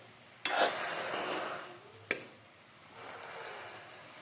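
A fork stirs and turns karmata bhaji greens, a Chhattisgarh leafy dish, in a pan: a couple of sharp metallic scrapes over a soft, low frying hiss, close and quiet.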